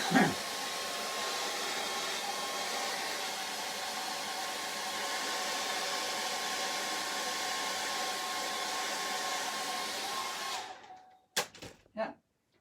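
A hair dryer blows steadily for about ten seconds to dry acrylic paint on a charcoal and acrylic portrait, a constant airy whir that cuts off abruptly, followed by a few brief faint clatters.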